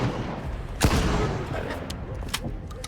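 Video game gunfire from a cheap double-barrel shotgun, one sharp loud blast followed by scattered fainter shots and impacts amid background game noise.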